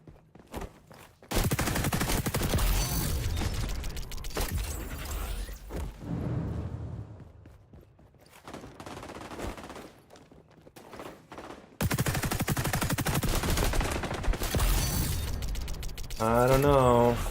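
Gunfire in the shooter game XDefiant comes in loud, dense bursts of rapid automatic shots, with quieter stretches of footsteps and weapon handling between volleys.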